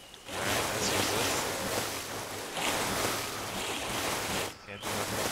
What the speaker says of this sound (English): I'm swimming in the water.